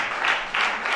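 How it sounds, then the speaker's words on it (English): Brief burst of audience applause at a farming association week event in Ogun State, Nigeria, as a guest is called to the high table; a steady wash of clapping in two swells, fairly close. "Applause for him"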